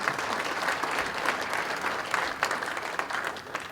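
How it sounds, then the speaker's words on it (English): Applause from an audience at a township State of the Township address honoring the Edison Fire and Police Honor Guard, a steady dense wash of many hands clapping at close range with no talking. "a round of applause for our Edison Fire and Police Honor Guard"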